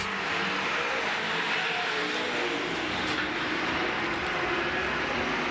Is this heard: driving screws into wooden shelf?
no